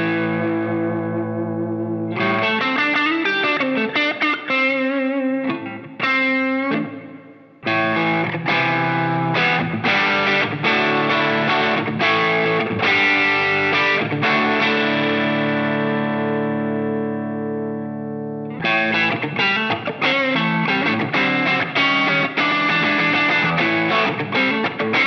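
Electric guitar through a Line 6 POD GO reverb, loud distorted chords and riffs with long washy tails that fill a big space, a short pause midway, no talking.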